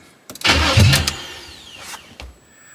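A 1978 Chevrolet Malibu Classic cranks briefly and fires up, its engine catching with a loud burst and then settling toward idle, with a second short revving blip near the end.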